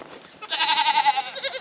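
A goat in a barn gives a single clear, wavering bleat, close and fairly loud, with no voices.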